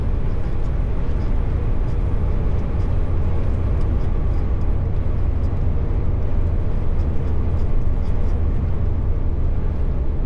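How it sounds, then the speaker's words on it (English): Inside a truck cab with engine braking engaged, a heavy, constant low rumble drones on steadily at an even loudness with no breaks. "Engine braking on."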